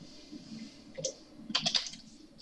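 Keys clack on a computer keyboard during an AutoCAD drafting session, a few quiet, scattered taps followed by a short burst of quick typing, close and faint.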